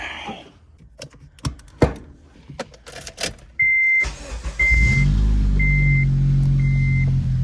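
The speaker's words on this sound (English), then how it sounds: "this car has some crazy bad drone" A Honda Civic Si with a K20z3 engine, just fitted with a new knock sensor, starts after scattered clicks and settles into a steady, loud low drone, with a chime beeping at regular intervals above it.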